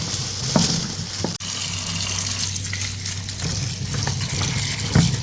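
Tap water gushes steadily over raw Sadri mangoes being washed under a faucet, a constant rushing splash with a few clunks from the fruit and handling.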